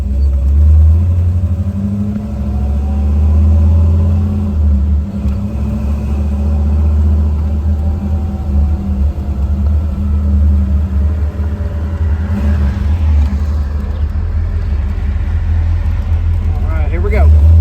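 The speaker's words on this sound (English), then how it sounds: "we're going to take this 1969 Chevrolet Camaro Indy pace car for a test drive" 1969 Chevrolet Camaro Indy 500 pace car convertible with a 396 V8 rumbling heavily from inside while driving, deep steady engine drone with rises as it accelerates and shifts, people talking over it at times.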